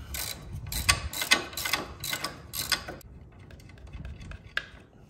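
Ratchet cranking a bolt tight on a Kuryakyn extended brake or shift lever fitted to a 2016 Harley-Davidson Street Glide, a quick run of close, loud clicking bursts, then softer scattered clicks and one sharp knock.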